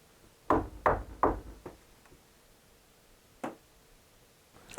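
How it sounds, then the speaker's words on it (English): Knuckles rap on a wall or door inside a reputedly haunted house: three quick, close knocks, a fainter trailing tap, then a single knock after a pause, in an otherwise quiet room. "I'm gonna knock."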